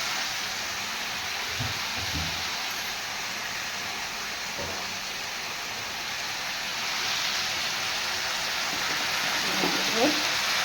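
Running water pours steadily over pieces of jackfruit being washed, a continuous hiss with faint handling knocks underneath.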